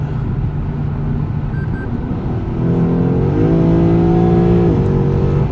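A Lexus GS F sedan on a Texas road accelerates at full throttle from inside the cabin, the engine note swelling and rising in pitch, then dropping briefly with a gear change before climbing again.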